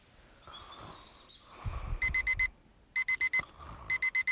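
A morning alarm clock rings in rapid bursts of four or five sharp, loud electronic beeps, broken by short pauses and some low thumps and rustling.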